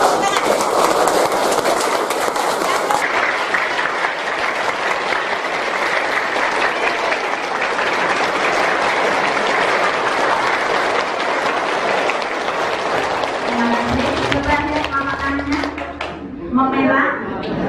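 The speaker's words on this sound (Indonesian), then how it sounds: "Boleh tepuk tangan." An audience at a guidance and counseling seminar claps together in long, steady, loud applause that fades near the end as a voice speaks.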